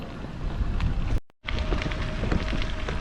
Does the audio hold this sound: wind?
yes